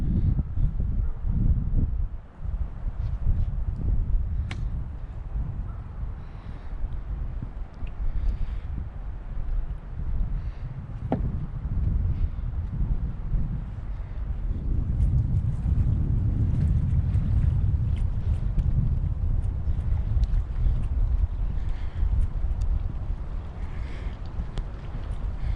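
Low, blustery wind buffeting the microphone outdoors at the boat dock area of Roosevelt State Park, with steady rumbling gusts and a faint background hiss.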